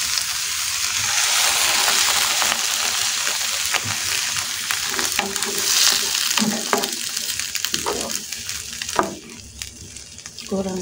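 Spice paste fries in a pan with a splash of water for an enoki mushroom and shrimp oyster sauce dish, a dense continuous sizzle with scraping stirs and watery sputters throughout.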